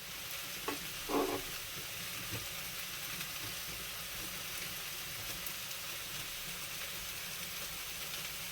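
Mushrooms frying in a pan, a steady, faint, close hissing sizzle throughout, with a couple of brief louder crackles near the start.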